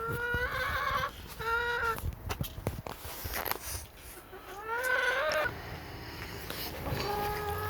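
Chickens clucking and squawking in a coop, several birds calling in short repeated bursts close by, with rustling and scratching between calls.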